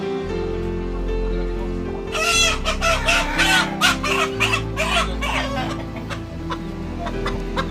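Chickens on a small poultry farm cluck and crow around evening as they are put into their coop, a busy burst of squawks rising after a quieter start, fairly close and loud with a steady low hum underneath.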